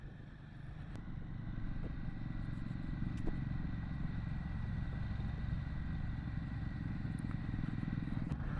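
A Royal Enfield Himalayan 450 motorcycle rides off-road in first gear on Salisbury Plain with a steady low engine drone and small clattery knocks. It stays fairly distant and even throughout, with no voices.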